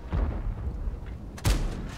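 Two heavy tank cannon booms about a second apart in World of Tanks, deep and punchy, with a rumbling game background between them.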